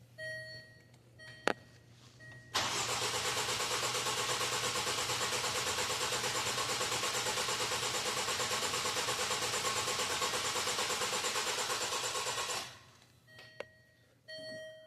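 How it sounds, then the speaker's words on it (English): A car engine cranks briefly then catches and runs steadily at a loud, even idle for about ten seconds before shutting off; a few faint beeps sound before and after. "we'll crank it up, see how it does, how it sounds, how it runs"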